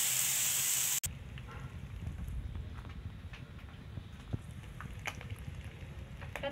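Pork frying in oil in a pan until golden brown for binagoongan, a steady close crackling sizzle with scattered louder pops, following a brief burst of hissing noise at the start.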